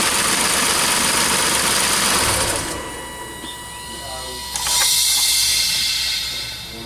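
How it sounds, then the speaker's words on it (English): A 2012 Nissan Latio engine, running rough with a vacuum leak and a P0400 code, idles loudly with a steady broadband hiss over it, the hiss dropping briefly then surging back; a voice speaks partway through. "So it sounds like pressure is escaping"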